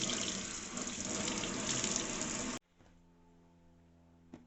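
A tap runs water steadily over a Chux cloth being washed at a sink, loud and continuous. It cuts off abruptly after about two and a half seconds, leaving a faint background hum.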